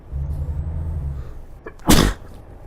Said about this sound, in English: Oh, I just sneezed.